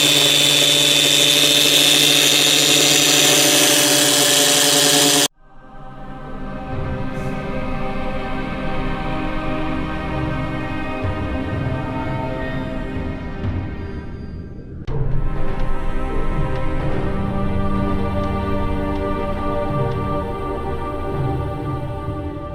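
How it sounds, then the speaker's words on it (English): A drill spins a polishing pad for headlight restoration, a loud steady whine with motor harmonics that starts after a noisy opening, dips, then revs back up and holds. "I want to make sure the pad is spinning freely and not stuck in one spot."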